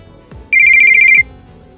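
A mobile phone ringtone sounds once as a short, loud, electronic warbling tone lasting under a second, close and clear with no speech.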